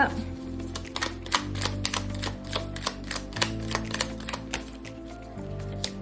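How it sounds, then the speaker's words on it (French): Tarot cards being shuffled by hand during a reading, a run of quick crisp riffling clicks and flicks close up, layered over a sustained soft musical backdrop. "Je vais mélanger les cartes"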